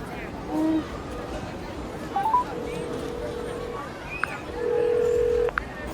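A smartphone emits short dialing beeps and tones while a call is placed, with people talking over and between the tones.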